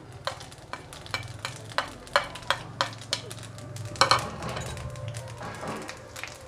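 Cumin seeds sizzle in hot oil for tempering a Bengali prawn and taro curry, a steady close frying hiss broken by a run of sharp taps and clinks in the first half, with no voices.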